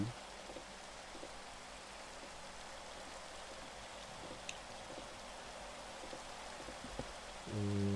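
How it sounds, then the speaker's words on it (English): Steady rain falls in the Minecraft video game, a continuous broadband hiss with occasional faint drips and a brief low thud near the end, no talking. "I know I could sleep the rain away."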